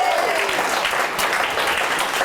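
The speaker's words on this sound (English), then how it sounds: "I'm conflicted about the applause because I didn't do anything." Applause from the audience at a live comedy show fills the room, a dense, steady clapping with no voices over it.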